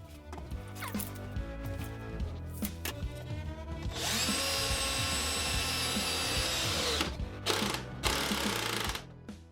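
A power drill bores pilot holes and drives wood screws into timber for a mitre saw station, steady whirring bursts that rise into a louder sustained run midway, close and loud, with short pauses between.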